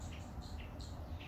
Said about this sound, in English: These guys are red-legged sirimas.